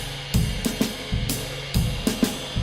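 A jazz drum kit plays a broken-time three-beat motif, with kick and snare accents landing in a repeating 1-2-3 pattern under ride cymbal, close and fairly loud, with no talking.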